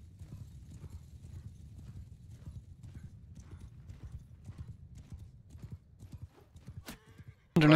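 Cavalry horses in a cataphract army battle in a video game gallop with a steady, fast clip-clop of hooves throughout, moderately loud, ending in a sudden loud burst of noise.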